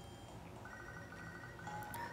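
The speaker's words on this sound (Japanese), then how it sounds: "あ、宇津木博士からの電話。" An in-game phone rings in Pokémon SoulSilver: a soft, repeating electronic ringtone chirps faintly over the game's steady background music, with no talking.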